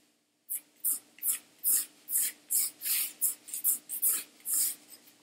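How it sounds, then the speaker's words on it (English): Pencil strokes scratch across paper while a bird outline is drawn for a watercolour piece, about a dozen quick, evenly spaced swishes, close and crisp, with no talking. "So I'm going to draw that in right here."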